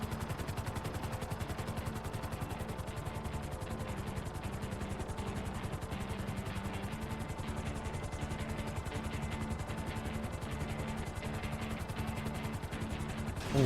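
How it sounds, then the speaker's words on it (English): A Frogger helicopter landing during a GTA V heist getaway, its rotor making a dense, continuous thudding chop that holds at steady loudness throughout. "What we're going to do is park the helicopter just about there."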